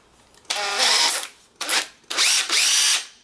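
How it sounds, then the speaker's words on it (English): Power drill spinning to straighten wire while assembling 18650 cell groups for a Commander electric upgrade, three loud whirring bursts, the first longest, the second short, the third running over a second, close up with no talk. "Now, to straighten it out, I use my drill."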